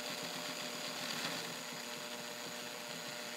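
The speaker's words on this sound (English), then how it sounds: "I'll make one more run here so you can see it, and I'll do straight stitching" A Toyota-made Morse Fotomatic IV zigzag sewing machine is running, giving a steady, fast mechanical whir with a rapid, even stitching rhythm. It is heard close and alone, with no pauses.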